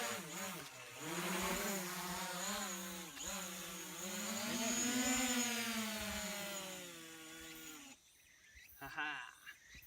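A steady high mechanical whine rises and falls in pitch, a drone flying nearby on a rugged forest trail on Ulleungdo island, holding for several seconds before cutting off into quieter outdoor noise.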